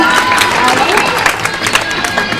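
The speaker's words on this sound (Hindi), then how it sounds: "जोरदार तालियां लगाएंगे इंजेक्शन पे" An audience at a staged anti-addiction drama in Gaya, Bihar breaks into loud applause, a dense wash of clapping mixed with crowd noise and a voice over it.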